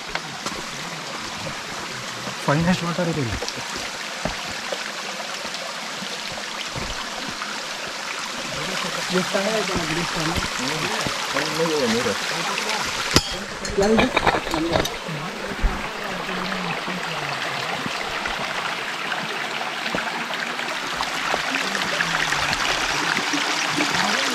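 A mountain stream flows on the Kumara Parvata trek, a continuous rushing and burbling of water that runs steadily from start to finish, with occasional voices heard over it.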